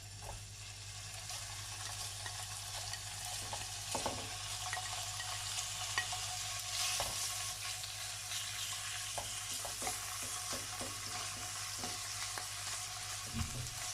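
Pork belly fries in a hot pan with a steady, close sizzle, broken by scattered pops and crackles and a few stirring knocks; no one speaks.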